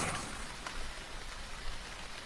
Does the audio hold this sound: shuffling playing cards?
no